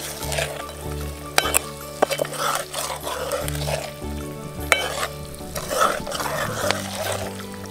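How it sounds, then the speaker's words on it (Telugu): Soaked chana dal being stirred into chicken curry in a pot: a busy sizzle with frequent scraping and occasional clinks of the spoon against the pan, steady and close throughout. "శనగపప్పు వేసుకున్నాక మంచిగా కలుపుకోవాలి."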